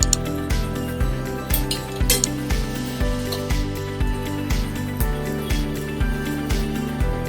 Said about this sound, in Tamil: எண்ணெய் காயுது. கடுகு உளுந்து பருப்பு போட்டுக்கணும்.